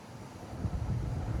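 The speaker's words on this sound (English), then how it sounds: "Let the wind die out for a second." Wind sweeps across a golf course and buffets the microphone, making a steady low rumble that swells slightly partway through, with no talking.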